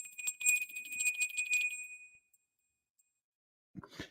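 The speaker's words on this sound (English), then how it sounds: "so Wispy, let's do the bell." A small handbell is rung at a tarot reading, with a cluster of bright, shimmering dings over about two seconds that then ring out into silence, followed by a short, soft knock.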